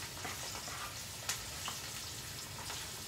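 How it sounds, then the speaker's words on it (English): Quiet, steady sizzling of chicken thighs frying in a pan, a soft crackling hiss with a few brighter pops scattered through it. "That's what I want right there, that sizzle."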